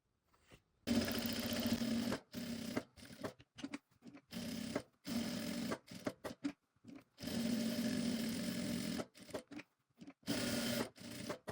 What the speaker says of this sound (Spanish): pasamos una costura por el borde para cerrar la pieza